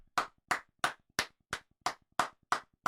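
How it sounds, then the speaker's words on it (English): Nine single hand claps for a guest come in a steady, evenly spaced rhythm, close to the microphone and fairly quiet, with nothing else in the background. "Let's give you a few claps."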